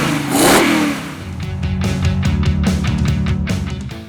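A Lexus car engine revs hard and loud, its pitch climbing through rapid harmonic sweeps, up close with no talking.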